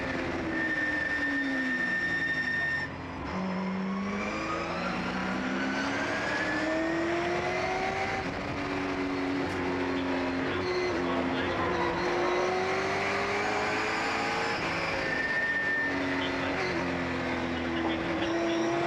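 Vintage race cars including a 1984 Pontiac Firebird #53 roar past on a circuit at a reunion race, loud continuous engine howl with rising and falling pitch as cars pass, an announcer talking over it.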